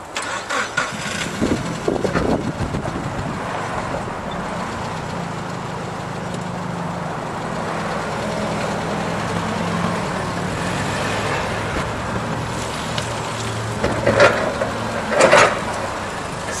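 A 2010 6,000 lb cushion tire forklift with new smooth drive tires runs steadily as it drives around, a continuous mid-pitched engine hum throughout with a few louder bumps and clunks near the end.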